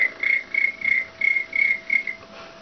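A woman imitates a cricket with a thin, high whistled chirp, repeated about seven times in an even, steady rhythm, close and moderately loud over faint background hiss.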